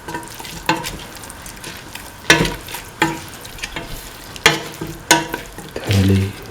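Chicken stirred in a hot pan with a ground mint, caraway and coriander mixture, a steady sizzle broken by repeated scraping strokes of the spoon, close and fairly loud, with a clink near the end.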